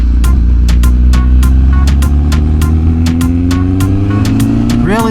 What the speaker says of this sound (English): this bike is obnoxiously loud